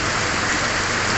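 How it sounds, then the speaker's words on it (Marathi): Heavy monsoon downpour beside a roadside paan stall, a dense, steady roar of rain that stays loud and even throughout, with no voices. "तर मुसळधार पाऊस चालू झालेला आहे"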